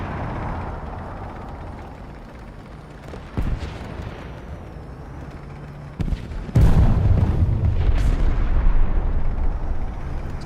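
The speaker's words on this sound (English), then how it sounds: "Guys just got hammered by missiles" Missile strikes slam down in War Thunder, with sharp booming explosions at about 3.5 and 6 seconds and a heavy, sustained blast rumble from 6.5 seconds onward over ongoing battle noise.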